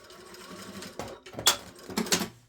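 A sewing machine stitches a trouser waistband in several short bursts, with close, whirring runs broken by brief pauses.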